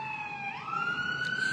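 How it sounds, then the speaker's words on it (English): Police sirens wail through downtown Los Angeles, a steady rising tone that climbs and holds, clear over a low urban background hum with no talking. "In downtown Los Angeles, you can hear some of those sirens there"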